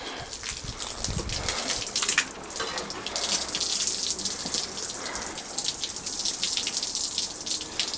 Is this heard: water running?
yes